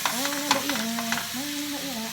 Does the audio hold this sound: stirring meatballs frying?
yes